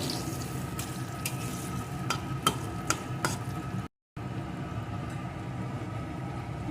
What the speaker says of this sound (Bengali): এখন মশলাটা সাথে একটু কষিয়ে নেবো